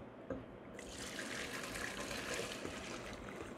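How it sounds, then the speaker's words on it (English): Strained chicken broth poured back into a pot, a steady soft liquid stream and trickle heard up close and faint, with no talking. "I'm gonna pour it back in."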